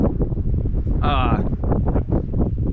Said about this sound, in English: that wind is just cutting through